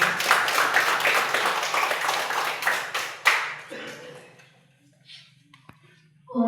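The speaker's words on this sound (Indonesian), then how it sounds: "Mari kita beri tepuk tangan yang paling meriah" Applause from the audience at an elementary school graduation announcement and farewell ceremony, a dense burst of clapping for several seconds that thins out and fades, with a faint tonal hum beneath and a brief renewed burst at the end.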